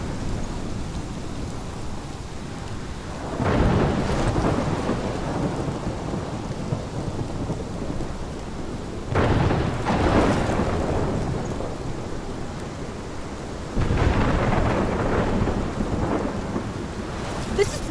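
Steady rain pours in the game Life Is Strange while rolling thunder swells three times, each rumble loud and sustained over the constant downpour, with no speech.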